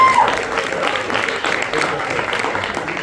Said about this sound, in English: Round of applause to Keith.